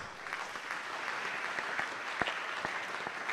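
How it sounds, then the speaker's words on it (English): A crowd of students at a Founders' Day celebration applauds steadily, a dense wash of clapping with a few louder individual claps standing out, heard from within the audience. "And then we clap for ourselves."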